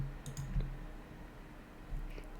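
A few quick computer mouse clicks in close succession while working in Creo modelling software, faint against a quiet room hiss, with no one talking.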